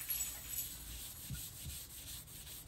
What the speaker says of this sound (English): And I'm just now rubbing it with the grain.